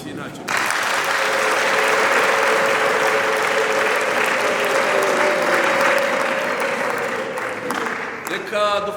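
A church congregation claps steadily as a sustained, dense wash of applause that fills the room from start to finish, fading slightly at the end. A faint held tone lingers underneath.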